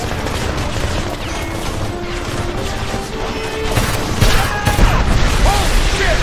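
Sustained gunfire in the Homefront shooter game, a dense rattle of shots and impacts that swells louder and busier toward the end, with crashing hits layered over a constant battle din.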